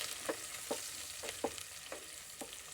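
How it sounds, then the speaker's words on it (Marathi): Two large chopped onions sautéing in oil with bay leaves and black pepper, a quiet soft sizzle with about six regular stirring scrapes from a spoon in the pan, no talking. "दोन मोठे कांदे कापलेले हेही तेलात चांगले परतवून घ्यायचे"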